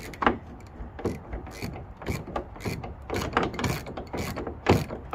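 Ratchet wrench clicking repeatedly while tightening a bracket bolt on a Ford F150 tailgate, a fast close series of sharp mechanical clicks in short bursts.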